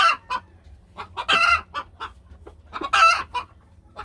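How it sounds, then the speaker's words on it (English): A hen cackling and clucking as she lays an egg in a barn, with repeated loud, bursting calls and a low background hum. There is no speech. "There's a chicken back there laying an egg."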